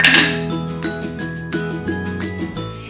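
Several glasses clink together in a toast among a group of friends, a bright ringing chime that repeats in quick overlapping strikes and decays over a few seconds, with no talk.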